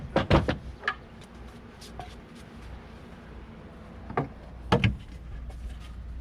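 A drawer in a custom van garage slides and knocks shut, with a cluster of wooden bumps and rattles at the start and another pair of knocks near the end, close over quiet room noise.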